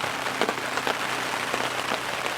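Steady rain pattering on a surface beside a carp fishing lake lined with reeds, a dense continuous hiss with scattered nearer drop impacts, fairly loud and close, no voices.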